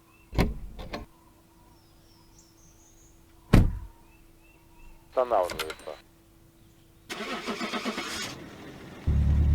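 A car in a video game starts up, with sharp door thumps, a whirring power-window sound and the engine cranking and catching into a steady run, fairly close and loud, while a person talks over part of it.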